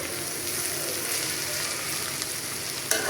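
Bitter gourd and potato fry sizzling steadily in a pan, a continuous bright hiss with a soft scrape of stirring near the end.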